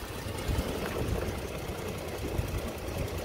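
A 2018 Dodge Durango SXT with all-wheel drive idles steadily, giving a low, even engine hum with a faint rhythmic ticking, heard close up and alone throughout.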